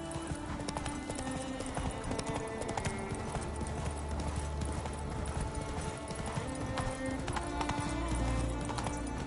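Hooves of Roach, Geralt's horse in The Witcher III: Wild Hunt, pound in a steady galloping clip-clop for the whole stretch over a dense bed of game music and ambience.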